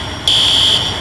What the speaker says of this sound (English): You'll see it activates our fire alarm.